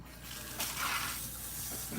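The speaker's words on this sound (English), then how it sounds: "So now let's rinse out this side." Steady rush of water running from a salon rinse sprayer over hair, faint and continuous with a slight swell partway through and no speech.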